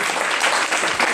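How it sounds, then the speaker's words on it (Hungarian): Audience applause at a Hungarian folk music concert, a steady, dense burst of clapping filling the room without pause and with no one talking over it. "Köszönjük a tapsot!"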